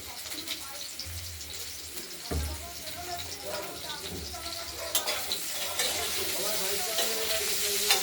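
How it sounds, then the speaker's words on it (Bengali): Potatoes frying in a pan for a paneer curry with tomato, a continuous close sizzle with stirring clatter, growing louder and hissier toward the end, a voice talking faintly underneath. "আলুগুলো ভেজে নিচ্ছি। ভাজা হচ্ছে"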